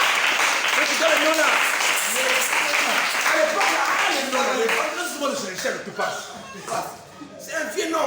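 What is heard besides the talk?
congregation applauding the Lord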